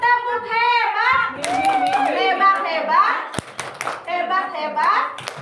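A class of children claps together for a classmate's correct answer, steady close applause carrying on for several seconds while an adult voice talks over it.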